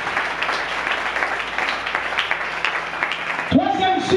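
A church congregation applauds in a dense, steady burst of clapping for about three and a half seconds, then it cuts off abruptly as a voice begins speaking.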